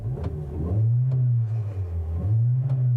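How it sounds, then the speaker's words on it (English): A 2-liter four-cylinder engine in a 2019 Hyundai Elantra idling and revving gently, a steady low drone rising and falling, heard from inside the car. "And you can hear the engine is pretty unremarkable."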